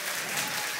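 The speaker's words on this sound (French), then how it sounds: "Maintenant, vous avez le droit d'applaudir." A large crowd at a French motivational event applauds loudly, producing a dense, continuous wash of clapping that stays steady throughout.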